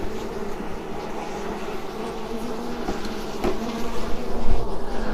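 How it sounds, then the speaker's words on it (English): Honeybees from a package being installed into a hive buzz in a continuous close drone, swelling louder toward the end, with no talking. "These bees in general are pretty chill"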